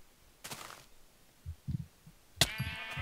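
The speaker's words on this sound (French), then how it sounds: "Vas-y, tue les moutons." Minecraft sheep give two short bleats, one early and a sharper one near the end, with soft game thuds and footsteps between them and no talk.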